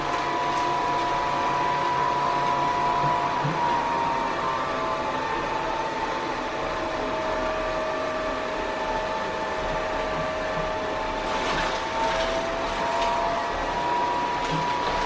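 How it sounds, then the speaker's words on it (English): Robotic vacuum cleaner running indoors with a steady, loud whirring hum and broadband airy noise, continuous throughout with faint mechanical clicks. "Now we do have another robotic vacuum"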